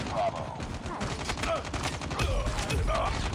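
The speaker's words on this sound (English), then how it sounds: "I'm rushing with the shotgun versus three guys" Shotgun fire in Call of Duty Mobile comes as dense, overlapping gunshots in a busy firefight, close and loud over a constant rumble of game sound.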